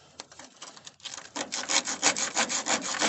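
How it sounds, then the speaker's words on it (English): Small piece of sandpaper rubbed by hand over metal on a car restoration, sparse scratches at first, then quick rhythmic back-and-forth strokes, close and fairly loud, with no talking. "So we take this little sandpaper."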